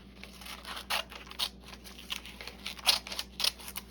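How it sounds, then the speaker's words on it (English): Scissors snipping through paper during a spring craft project, a quick run of close, crisp cuts and rustles at an uneven rhythm, fairly quiet and with no voices over them. "Getting a little reckless with my scissors."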